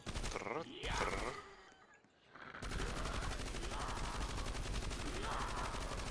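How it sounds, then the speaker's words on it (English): An upgraded minigun-style weapon in a zombies video game fires a long, continuous rattling stream of rapid shots after a brief scuffle and a grunt, loud and steady to the end. "The upgraded version is so good, you can't believe it. Trrr, trrr."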